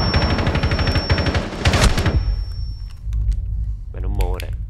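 Rapid automatic gunfire from the Rainbow Six Siege video game crackles loudly in dense bursts for about two seconds, then gives way to quieter game sounds while a voice speaks near the end.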